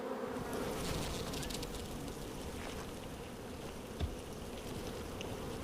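Honeybees buzzing steadily around a beekeeping site, a dense, continuous low drone with no talk, fairly quiet and even throughout with one brief knock near the end.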